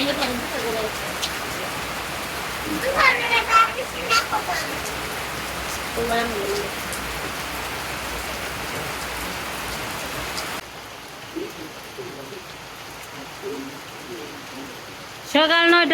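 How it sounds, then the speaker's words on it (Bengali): Steady rain pours down during a morning shower in a rural area, a dense hiss that covers the whole stretch. Faint voices and a few brief knocks sound underneath, and the rain drops quieter near the end. "এইমাত্র বৃষ্টি শুরু হয়ে গেল"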